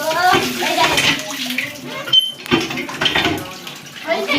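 A child is bathed in a tub, with water splashing and sloshing throughout under near, continuous talk from adults and a child.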